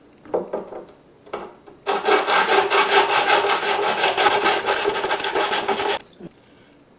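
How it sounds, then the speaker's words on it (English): Fret filing on a 1966 Martin D-18 guitar: a couple of short rasps, then a loud, steady back-and-forth file stroke sustained for about four seconds before stopping, close up with no talking. "Each time I make an adjustment, I'm pushing the file in."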